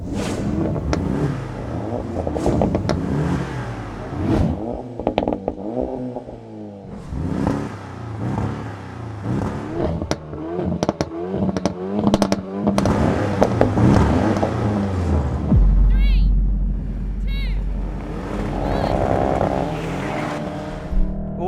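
Volkswagen Golf R, Porsche Boxster and Renault Megane Trophy launching off the line in a drag race, engines roaring and revving through gear changes, loud and close, with someone talking excitedly over parts of it.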